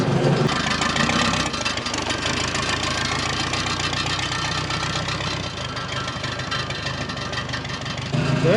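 A 4x4 forklift engine runs loud and close with a rough, knocking mechanical rumble that holds steady and eases slightly midway, as if throttle is applied and held.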